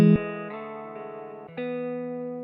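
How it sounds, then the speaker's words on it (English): A sustained guitar tone smeared into a soft, pad-like wash by fully wet reverb, with a couple of faint plucked attacks blurring into the drone. "wash this out with a fully wet reverb signal, kind of turn it into like a guitar pad sound"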